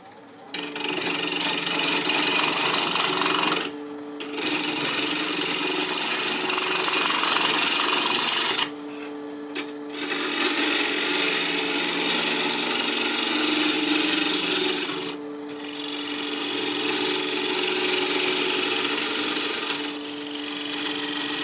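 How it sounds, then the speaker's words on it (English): A 5/8 inch spindle gouge shaves the outside of a wooden bowl spinning on a lathe, giving a loud, sustained scraping hiss in long passes. Brief pauses break the cutting, and the lathe's motor hum continues underneath. "I just happen to have a 5/8 inch spindle gouge that works well on the outside of bowls"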